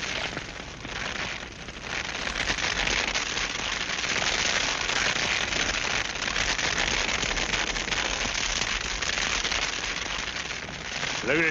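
Brushfire catching and spreading in dry brush near a wagon in a windy outdoor Western setting, a steady dense crackle and hiss sustained throughout at fairly loud level, with no speech.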